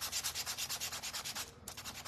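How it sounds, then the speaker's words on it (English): Rhythmic hand sanding of a small craft frog-on-mushroom piece, quick back-and-forth rasping strokes about six or seven per second, close up, with a brief pause before the scrubbing resumes. "I'm just gonna sand this just a little bit to kind of help it look more like dirt"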